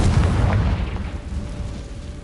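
A Confringo spell explodes in a video game, a loud, close burst with a deep rumbling boom that slowly fades over a couple of seconds.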